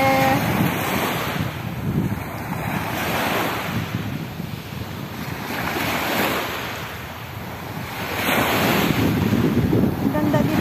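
Sea waves washing onto the shore in slow surges, with gusting wind buffeting the microphone, loud and close, the roar swelling and easing about every few seconds with no talking.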